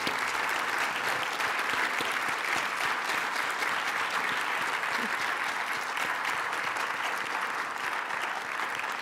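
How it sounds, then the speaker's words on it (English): A town hall forum audience applauds steadily, a dense wash of clapping hands that continues without pause from start to finish. "Let's give out all of our guests a round of applause for sharing."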